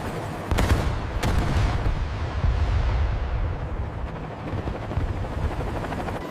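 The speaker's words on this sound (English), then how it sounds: "The Ka-52's coaxial rotors demonstrate clear maneuverability superiority, as you can see." A Ka-52 coaxial-rotor attack helicopter flies nearby, a loud, broad rumbling roar with a couple of sharp thumps early on, steady and without talk.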